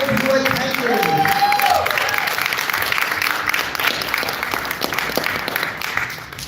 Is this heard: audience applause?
yes